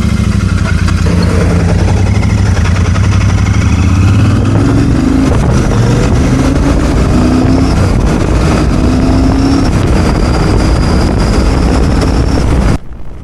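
Royal Enfield Super Meteor 650 cruiser motorcycle riding on Thai mountain roads, a loud steady engine drone with rising gear pitches and heavy wind rush throughout, cutting off near the end.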